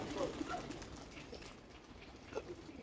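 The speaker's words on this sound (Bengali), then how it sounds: "কবুতরগুলো উড়ে এই গরমে দেখি" Domestic pigeons kept in a loft, some flying on a hot day, give scattered coos and calls over steady outdoor background noise. A few short vocal bursts stand out near the start and again late in the clip.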